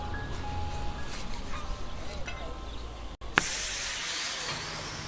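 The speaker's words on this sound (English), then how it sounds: "it's sizzling" A steady hiss of a very hot plate of food sizzling, continuous and close, with a brief click partway through and a slightly louder hiss after it.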